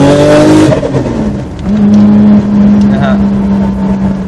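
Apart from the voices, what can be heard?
turbocharged custom car engine revving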